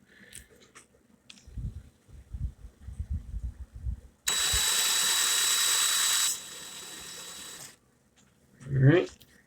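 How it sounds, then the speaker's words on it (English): A power drill spins in a steady burst to wind round wire, running loud and close for about three seconds before easing to a lower whir, with clicks and handling noises before it and a short voice afterwards. "Get it on there with the drill."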